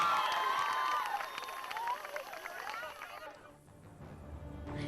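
Schoolgirls at a school cheer and celebrate, with high-pitched shouts and crowd noise up close that gradually thin out, dropping to a quieter background near the end.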